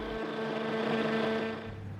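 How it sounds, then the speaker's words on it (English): A blender whirs steadily as it purées basil with salt, olive oil and lemon juice, a continuous loud motor drone with a sustained hum that eases slightly near the end. "blend well"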